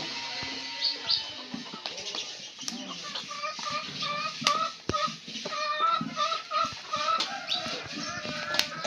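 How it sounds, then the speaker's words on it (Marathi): Hens cluck and cackle before laying eggs, in repeated rising calls over a busy farmyard background with scattered knocks and faint voices. "अंडे घालायला कोंबड्या आधी गाणं म्हणते नंतर मग अंड"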